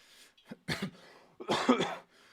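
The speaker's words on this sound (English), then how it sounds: "Hopefully, you're not coughing a little bit like me." A person coughs a few times close by, short harsh bursts with brief pauses between them, like clearing a scratchy throat.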